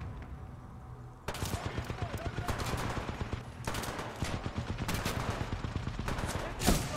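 Gunfire in the shooter game Titanfall 2 comes in long, rapid, loud bursts of close shots, broken by short pauses and ending in a heavier boom, with a sniper rifle in use.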